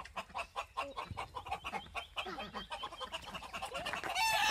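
Farm chickens cluck in rapid, steady bursts close by, a busy flock at moderate volume with faint background noise toward the end.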